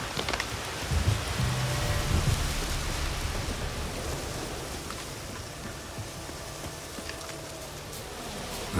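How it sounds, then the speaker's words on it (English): Steady rain in The Witcher 3 video game, a broad even hiss on the ground that holds at moderate loudness throughout, with no voices. "Looks like rain."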